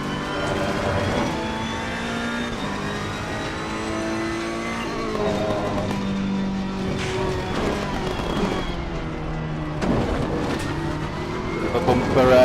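A Ferrari 488 Evo race car engine at Imola in Assetto Corsa Competizione holds a steady, loud howl through repeated upshifts and downshifts, rising and falling in pitch as it races with other cars, while someone talks over it.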